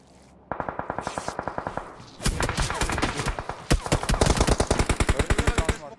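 DPS gun firing in BGMI, sounding as a steady rapid burst of automatic shots, then heavier, denser gunfire with overlapping reports, close and loud throughout.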